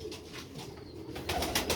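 Grey Silver Star Sialkoti pigeons with crested heads coo softly close by, a few low, repeated rolling calls over quiet background noise.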